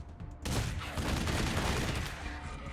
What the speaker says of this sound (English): Good job with the machine gun.